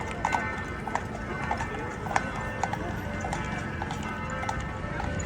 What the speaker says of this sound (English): Here is the horse and cart.